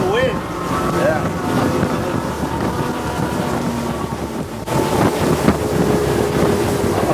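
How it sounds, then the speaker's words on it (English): Steady wind rushes past while riding a Sailfish 360 CC center console boat, a continuous loud buffeting roar blended with the boat's hum, with a brief shift partway through. "That's the wind."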